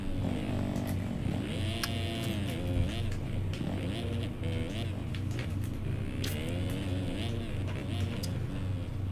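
A Kawasaki motocross bike engine revs in the MX Simulator racing game during supercross practice. The buzzing drone rises and falls in pitch continuously, with other bikes faintly in the mix.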